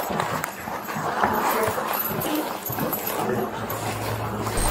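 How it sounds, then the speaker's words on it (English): Dogs in a kennel at a Bernalillo County house bark and whimper at a middle distance while a sheriff's deputy approaches, with footsteps and shuffling in between. Brief voices are faintly audible. "Looks like dogs in the kennel."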